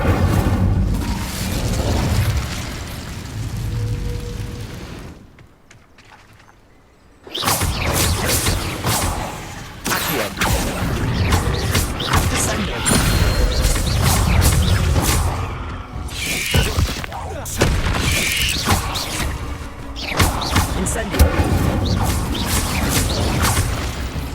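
Incendio fire spell cast in Hogwarts Legacy, heavy booming blasts and crackling bursts that fill the scene, broken by a brief quiet gap before the dense, loud fire and impacts resume.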